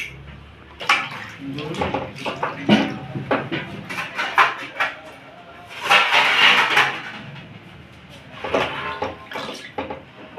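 Chopped vegetables for khichuri are washed by hand in a pot of water: irregular close splashing and sloshing with clinks of metal cookware, and a voice faintly in the background.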